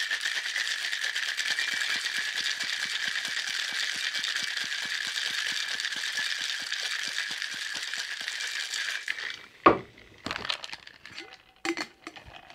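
Blood and Sand cocktail shaken hard in a shaker, ice rattling in a fast steady rhythm for about nine seconds, then a few loose clinks and knocks as the shaking stops.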